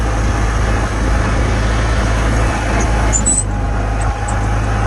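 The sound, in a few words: Farmall Cub tractor engine plowing heavy snow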